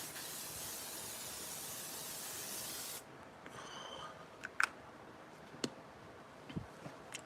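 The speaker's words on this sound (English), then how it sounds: "we're gonna jump into a setting spray." Makeup setting spray misted onto a face during a Joker SFX makeup session, a steady close hiss for about three seconds, followed by quieter faint ticks and small handling sounds.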